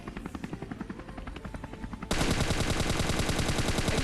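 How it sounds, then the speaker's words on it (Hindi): Automatic gunfire rattling in quick bursts in the Scarfall 2.0 mobile battle royale game, then abruptly swamped by a loud, dense, continuous roar like a helicopter close overhead. "पास में देखो हेलीकॉप्टर का साउंड आ रहा था मेरे को"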